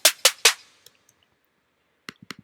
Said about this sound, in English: So the next sound I have here is a snare